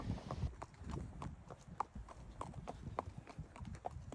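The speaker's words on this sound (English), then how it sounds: "Riding Eddy today" Hooves of a ridden horse clip-clop in a steady walking rhythm, close and clear, with a light breeze in the background on a cool day while climbing on a long cross-country ride heading east toward Colorado.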